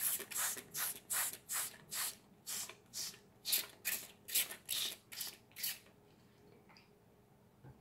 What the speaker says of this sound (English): now I'm gonna spray them with water.